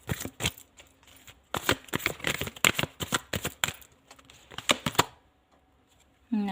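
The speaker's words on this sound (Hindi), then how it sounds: "1 कार्ड और लेती हूँ मैं।" Tarot cards being shuffled and drawn, heard as close, crisp bursts of rapid riffling and flicking in uneven clusters, then a short quiet stretch near the end.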